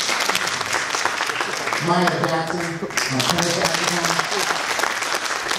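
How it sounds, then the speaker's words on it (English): Audience applause rolls steadily through a high school honor jazz band concert while someone speaks over it, introducing band members. "He can applaud too."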